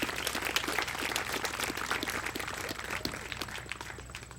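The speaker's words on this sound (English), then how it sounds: "How about a nice round of applause for Mr." Audience applause for a sheepdog handler at the USBCHA sheepdog finals, a steady wash of clapping from a crowd, fairly distant and continuous, tapering slightly toward the end.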